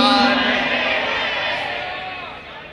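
A crowd at an Eid Milad un Nabi naat gathering roars its response to the Naara-e-Takbeer slogan call, a loud, sustained chorus of many voices that slowly fades.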